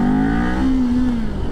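A 2022 Kawasaki Ninja 400 motorcycle accelerates hard at full throttle in first gear, its engine note climbing steadily and loud up close for a brief moment before easing off.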